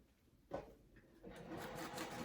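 A sewing machine stitches fabric for a zippered crossbody bag: a short burst of stitching, a brief pause, then steady continuous running, fairly quiet and close with no talking.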